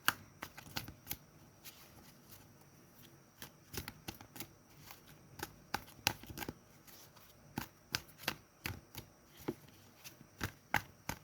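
Tarot cards are shuffled and drawn by hand in a quiet room, producing soft, irregular flicks and riffling clicks at close range throughout, with no talking.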